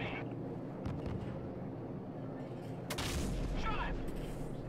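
AC-130 gunship firing in the Call of Duty 4: Modern Warfare video game, distant booming cannon shots and a sharper blast under radio chatter and ambient battle noise.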